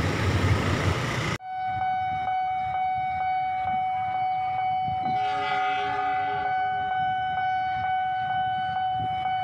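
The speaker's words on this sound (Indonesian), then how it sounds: "Ketika kereta lewat, tertiblah adanya." A train rumbles past a two-track level crossing up close with a steady clatter, while the crossing warning bell dings repeatedly and a horn sounds partway through.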